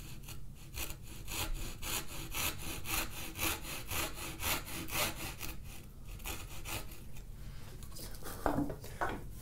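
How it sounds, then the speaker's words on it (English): A hand saw cuts a miter in a mahogany board, its strokes rasping in a quick, even back-and-forth rhythm, close and moderately quiet, with no voices. "I want to cut the miter off before I do anything else"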